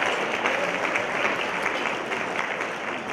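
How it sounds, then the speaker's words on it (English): An audience applauding at a motivational talk for lawyers, a steady wash of many hands clapping at even strength throughout, fairly close and full. "Come on, give yourself a big round of applause."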